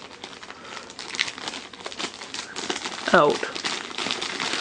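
A first aid kit being pulled out of a plastic bag one-handed, giving brief crinkling and rustling plastic bursts under a man's continuous speech, with a sharper crackle near the end.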